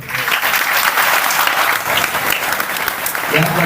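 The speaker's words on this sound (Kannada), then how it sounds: "ನಿಮ್ಮ ಚಪ್ಪಾಳೆ ಬರದೆ ಇನ್ನೂ ಜೋರ ಬರಬೇಕು" A crowd at an Uttaradi Math religious gathering in Bagalkot, with a religious leader, claps loudly and continuously, dense applause filling the hall before a voice starts speaking at the end.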